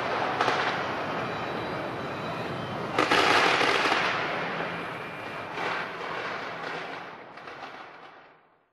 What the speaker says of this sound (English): They watch the beautiful fireworks exploding.